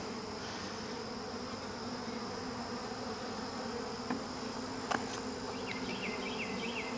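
A steady, dense hum of many honey bees buzzing close by while being installed into a hive, continuous throughout with a few faint clicks and brief higher chirps.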